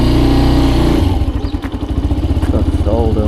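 A motorcycle engine runs close and loud during a slow U-turn, first a steady throbbing idle, then a dip in load and a rapid chugging pulse as it pulls away at low speed, with a rider's voice over it.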